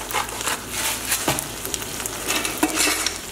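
Sirloin steak seasoned with salt and pepper sizzles in a pan over medium-high heat, a continuous close hiss with scattered scraping and stirring clinks, no speech.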